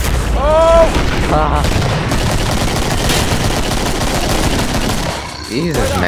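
Video game gunfire, sustained loud bursts of shots and booms filling the whole stretch, close and dense, with voices talking over the action.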